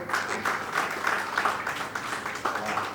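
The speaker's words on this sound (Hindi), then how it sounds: "एक बार आप थोड़ा सा मन देंगे, ज़ोरदार तालियां।" An audience at a Hindi poetry gathering (kavi sammelan) in Lucknow claps continuously, a dense patter of many hands at moderate volume with a few voices mixed in.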